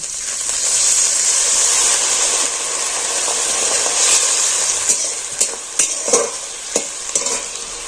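An egg, lentil and pumpkin mixture fries in a pan with a steady bright sizzle while being stirred, with several sharper scraping clicks near the end; no one speaks.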